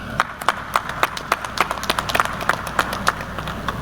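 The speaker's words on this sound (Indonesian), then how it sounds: "aplaus untuk UNESA" A small audience at a UNESA university event giving rhythmic applause, a dozen or so evenly spaced, fairly sharp claps at a steady pace, heard alone without talk.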